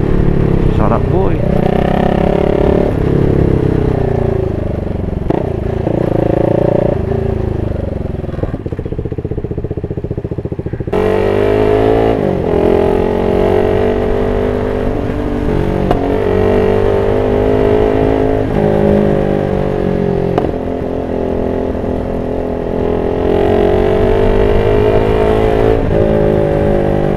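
A high-displacement motorcycle in sports mode rides loud and close, its engine note rising and falling through revs, with exhaust popping and backfire crackle on the throttle. A brief lull comes before the engine returns.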